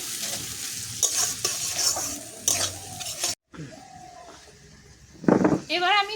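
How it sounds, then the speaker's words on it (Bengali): A paste of onion, garlic, ginger and chili sizzles and fries in a pan while it is stirred, with scraping and clinking of utensils and a voice talking over it. "এবার কিন্তু পেঁয়াজ, রসুন, আদা আর লঙ্কা বাটাটা দিয়ে দেবো, দিয়ে ভালো করে কষিয়ে নেব।"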